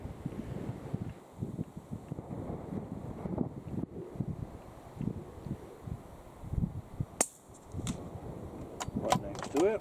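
Gusty wind buffets the microphone at an outdoor rifle range, a rough, uneven low rumble that swells and dips, with a few brief sharp taps near the end.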